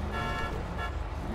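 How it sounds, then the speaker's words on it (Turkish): A car horn in GTA 5 sounds as a steady sustained honk, held for over a second and fairly loud, over a low engine and traffic rumble. "Bir kornaya bas da usta gelsin."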